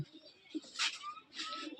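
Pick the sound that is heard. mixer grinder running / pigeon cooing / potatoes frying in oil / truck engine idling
pigeon cooing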